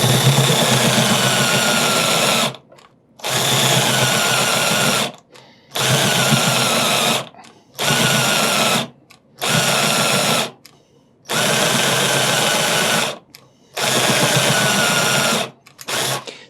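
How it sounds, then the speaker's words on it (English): A cordless drill runs in repeated long loud bursts with short pauses between, its motor straining under heavy torque with a labouring whine, no talking. "This drill doesn't have a low speed"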